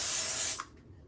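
Whiskey Reserve cologne sprays in one long, close hissing burst lasting over half a second, then cuts off into a quiet room with no one speaking.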